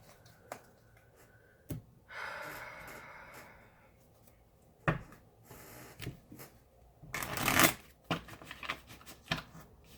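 Tarot cards are shuffled and handled, producing faint, scattered riffles, soft slaps and rustles with a louder flurry near the end, close by in a quiet room.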